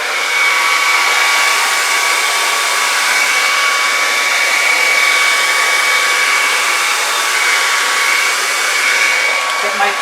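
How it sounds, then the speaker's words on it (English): Blow dryer running while drying fluid acrylic paint from a Dutch pour, a loud, steady high-pitched whooshing whine held continuously at close range with no talk. "And I have my blow dryer. Get ready for noise."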